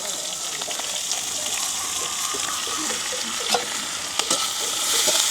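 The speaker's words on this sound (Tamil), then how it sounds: "எண்ணெய் வந்து சூடாகிட்டது நாங்கள் வடைக்கு தேவையான பெருஞ்சீரகம் போடுவோம்" Fennel seeds, chopped onion, green chili and curry leaves fry in hot oil for vada, giving a steady, close sizzle with brief crackles and stirring scrapes throughout.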